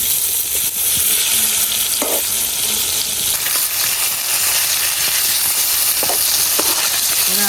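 Fish frying in a wok crackles in a loud, steady sizzle up close, broken by a few sharp spatters and the scrape of stirring, with no one speaking.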